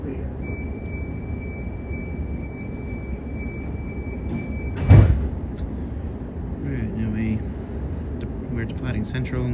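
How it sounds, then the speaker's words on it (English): Sydney Trains carriage doors closing at Central station, a brief loud thump near mid-clip over steady onboard rumble and a faint high warning tone that stops as the doors shut. "Doors closing. Please stand clear."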